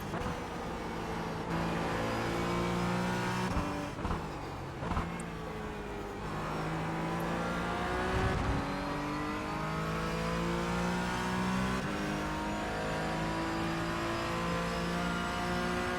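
Porsche GT4 race car lapping the Road Atlanta circuit, engine droning steadily from inside, rising and falling in pitch through gear changes and throttle lifts, with no talk.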